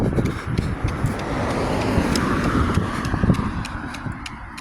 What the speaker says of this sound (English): So we've got a car coming from behind on the left-hand side.